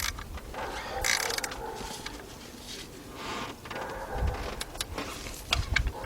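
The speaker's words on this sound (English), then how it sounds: "I'm going to tighten up this bolt right over here to keep it into place." A 3/8-drive ratchet tightening an alternator bolt on a 1986 Mercury Marquis with a 3.8 engine, giving faint close clicking bursts in a quiet garage, with no talk.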